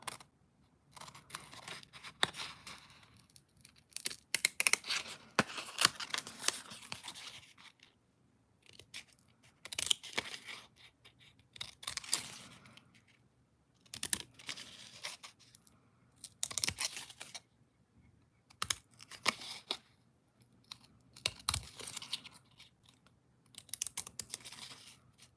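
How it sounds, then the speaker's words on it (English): Scissors snip paper star shapes out of a sheet in quiet, close bursts of sharp cuts separated by brief pauses, with light paper rustling between the snips. "So I'm just going to quickly snip these out."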